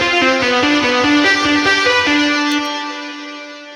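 Distorted power chords from a Telecaster through a Little Big Distort amp with a compressor and effects, played loud and close in a quick rhythmic run before a final chord rings out and decays.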